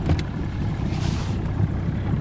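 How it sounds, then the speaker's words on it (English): A fishing boat's engine runs while trolling on open water, a low steady rumble close by with wind buffeting the microphone and a brief brighter rush partway through. "if you rev that engine up to 20 miles per hour"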